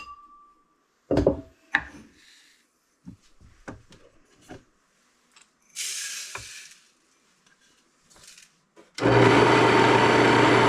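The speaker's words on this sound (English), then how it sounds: "So the first thing we gotta do is go grind some fresh einkorn" Grain mill grinding fresh einkorn wheat, a loud continuous whir that starts abruptly near the end after scattered handling clunks and knocks in a quiet room.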